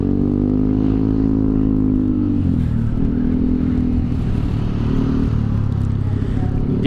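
A motorcycle overtakes in Indonesian traffic, its engine droning steadily and loudly close by with a pitch dip and recovery partway through, under heavy wind buffeting.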